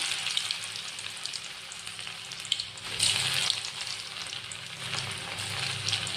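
Potato fries coated in flour, chili and salt deep-frying in hot oil: a continuous close hiss and crackle of bubbling oil that swells briefly midway, heard alone with no talking.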